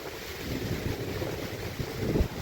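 Strong wind gusts roar steadily through bending trees in open farmland during an unseasonal storm, a continuous low rumble with rising buffets near the end and no voices.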